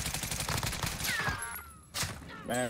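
Rapid automatic gunfire in Call of Duty Warzone on Rebirth Island, likely from an AK74u, bursts of dense shots up close, followed by a brief lull and a ringing tonal sweep.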